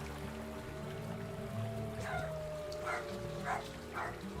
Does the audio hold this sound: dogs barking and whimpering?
yes